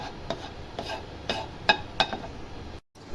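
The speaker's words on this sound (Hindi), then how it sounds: "अब चले जी, इनको हम हल्का सा सोते कर लेंगे।" Vegetables being lightly sautéed in a pan with a little refined oil for brown-rice fried rice: soft, close scraping and stirring strokes of a spoon against the pan, a few sharper clinks, fairly quiet and steady with no talking.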